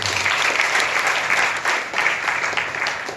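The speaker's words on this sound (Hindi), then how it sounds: "इनके लिए जबरदस्त ताली हो" Loud, sustained applause from a crowd at a large event in Patna, clapping continuously without a break and filling the space.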